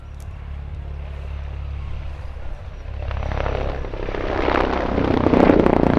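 An Agusta AH-129D Mangusta attack helicopter flies a display at an airshow, its rotor and turbine drone steady and loud, swelling brighter and closer toward the end as it passes.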